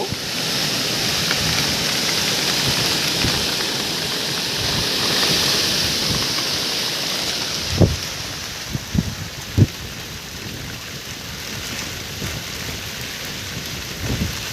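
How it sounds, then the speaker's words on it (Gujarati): Heavy rain driven by strong wind across an open farm field, a loud, continuous roar of rain with a few dull low thumps toward the middle and no talking. "પવન એટલો છે ને વરસાદ એટલો છે."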